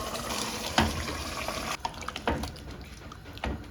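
Water poured from a vessel onto yogurt, ginger-garlic paste, green chilli and fennel marinated mutton for biryani, a steady close splashing pour with a few louder sloshes and no talk.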